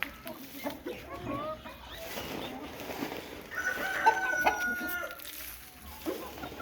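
Laying hens in a poultry coop cluck in a steady, layered chorus, with occasional louder calls, while a person talks over them.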